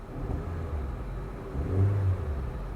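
A Lincoln Navigator engine idles with a low rumble, then revs up briefly and settles back, heard close and steady with no voices.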